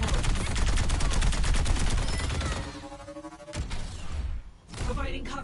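Gunfire in Overwatch, a dense rapid burst of shots for about two seconds, then scattered shots, thuds and ability effects in the game's mix.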